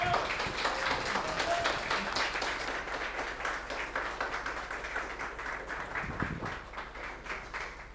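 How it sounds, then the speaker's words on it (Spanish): Sustained audience applause welcoming a history lecturer at a talk, steady dense clapping from a sizeable crowd lasting several seconds, with individual claps near and distinct. "Un fuerte y caluroso aplauso a don Ulises Caravante."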